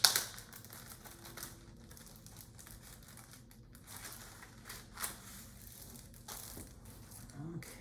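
Plastic bags of children's craft supplies are opened and handled, producing faint crinkling, rustling and scattered clicky crackles over a quiet room with no talking.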